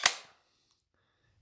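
An SKD Glock 18 gel blaster trigger pull makes one sharp, close snap with blowback action, then a brief mechanical rattle and near silence.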